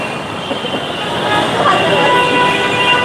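A metro train rumbles at Karwan Bazar metro station in Dhaka, a loud, steady roar of rail noise that swells slightly over a few seconds amid busy station ambience.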